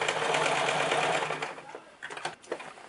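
Sewing machine stitching thread down on old denim jeans, a steady close whirring run of rapid stitches that slows and breaks into short stuttering bursts near the end.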